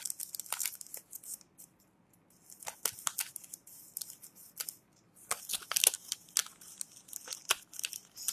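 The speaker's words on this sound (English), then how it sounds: "So just flatten it and fold it into half." Paper cupcake liners are flattened and folded in half for a kids' popsicle stick craft, making soft crinkling and rustling with several sharp crisp creases, close and fairly quiet.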